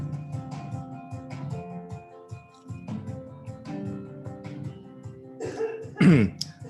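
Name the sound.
cough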